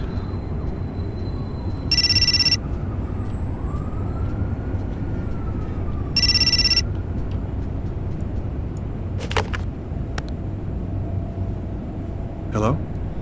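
A phone rings twice in short electronic bursts several seconds apart, over a low steady background hum with brief tonal blips later, in the video game Fahrenheit (Indigo Prophecy).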